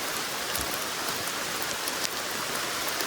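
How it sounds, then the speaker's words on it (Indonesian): Steady rain pours on a forest trail on Mount Gede via the Selabintana route in the late afternoon, a dense, even hiss with scattered close drops and no voices. "mendapatkan cuaca hujan."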